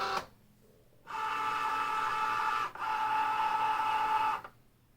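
A Cricut cutting machine drawing in its mat, a steady tonal motor whir running in two long stretches separated by a brief pause, with a short click at the start and quiet before and after.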